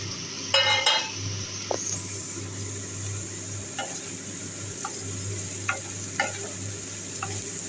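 Okra and fried potatoes crackle in a pan, a moderate steady sizzle broken by scattered clicks and scrapes of a stirring spatula.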